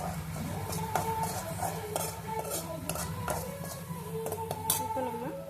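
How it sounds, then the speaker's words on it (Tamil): A spoon repeatedly scrapes and clinks against a metal pan while gravy with salt is fried and stirred for a quail egg dish. The strokes are close and rhythmic over a constant low background hum. "உப்பு சேர்த்து நல்லா ஃப்ரை பண்ணிக்கலாம்"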